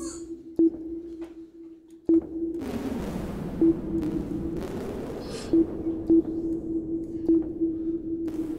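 A reverb with a disperser effect in audio production software, sounding as a steady sustained tone overlaid with diffuse washy tails and several short bright pings, moderately quiet, with no talking.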